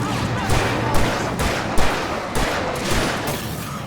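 Gunfire in the video game Alan Wake Remastered, a rapid series of sharp shots at an irregular rhythm, loud and close over a dense noisy background.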